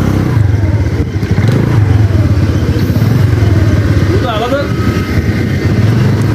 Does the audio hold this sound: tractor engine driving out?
yes